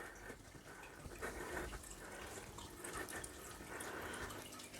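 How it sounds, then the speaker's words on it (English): Water from a garden hose fitted with a strainer pours into a planted aquarium, producing a steady, broad splashing rush that runs continuously at moderate volume with small surges throughout. "I've put the strainer on the hose, so it breaks up the flow"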